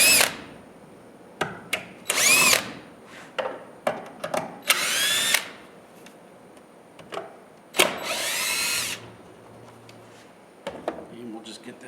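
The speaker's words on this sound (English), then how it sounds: "now I can go ahead and take these screws out real quick." Power drill backing screws out of a wooden table top in a workshop, several short whirring bursts separated by pauses, with someone talking quietly between them.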